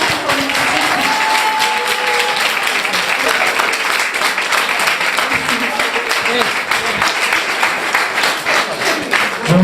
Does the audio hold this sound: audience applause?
yes